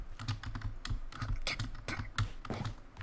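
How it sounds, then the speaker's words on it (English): Rapid computer keyboard typing mixed with mouse clicks during a Minecraft multiplayer session, loud and close-up, a dense run of sharp clacks over about three seconds with a low hum beneath. "My keyboard and mouse are the loudest things ever"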